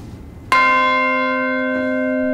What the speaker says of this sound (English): This is the sound of the Charles bell.